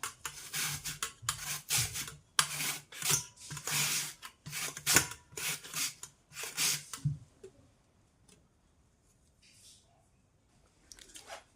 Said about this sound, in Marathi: किसून घेणार आहोत किसते ना